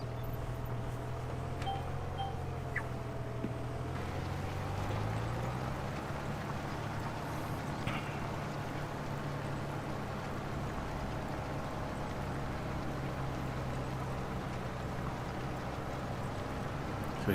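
Quad track tractor working a field in Farming Simulator 25 under difficult conditions: a steady low engine drone with a droning harmonic that rises slightly, continuous and even throughout, with no talking.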